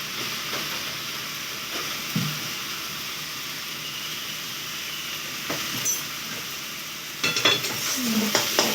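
Papaya curry stirred in a pan after a little ghee is added, a steady soft sizzle with occasional scraping clicks of the spoon against the pan, a few louder clatters near the end.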